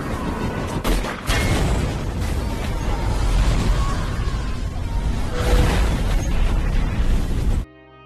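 A helicopter blowing up after its fuel tank is shot, in an action film scene: a heavy roaring explosion with booming rumble and whooshing debris, loud and sustained before cutting off abruptly.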